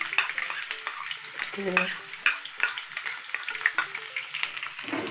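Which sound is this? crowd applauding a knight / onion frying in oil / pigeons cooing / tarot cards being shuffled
onion frying in oil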